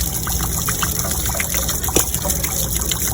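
Water gushes and gurgles steadily as it drains from a water heater, a close, continuous splashing flow with bubbling trickles.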